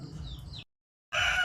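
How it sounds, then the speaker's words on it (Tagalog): Backyard chickens clucking outdoors behind a house after rain, a steady nearby chatter of fowl that cuts off into a brief silence before resuming louder. "Pero na diri among mga manok oh."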